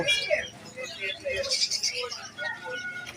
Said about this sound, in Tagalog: Meron sila African lovebirds. Yung mga zebra finches.